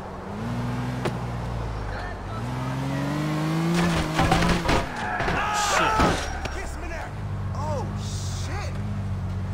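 A car drives in the video game GTA IV: The Ballad of Gay Tony, its engine droning and rising in pitch through gear changes, with bangs, clatter and a crash in the middle, while a person talks over it.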